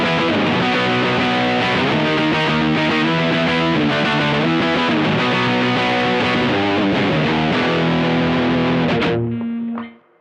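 An electric guitar plays tight, chugging riffs through a Mosky Ultimate Drive mid-to-high gain distortion pedal, a loud saturated tone that runs continuously before the final chord is cut off abruptly and fades out.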